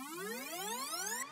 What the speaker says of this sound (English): we have the identical riser, which sounds like this